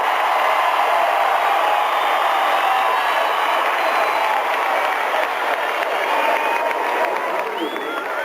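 Arena crowd at a 1994 NCAA gymnastics championship applauding and cheering for a curtain call, a loud continuous roar of clapping sustained for several seconds without a break.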